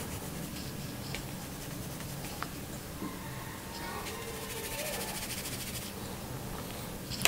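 A pen scribbles colour into a simple cartoon drawing, making a soft, continuous scratchy rub on paper that stays close and low in level, with a few faint taps and no talk.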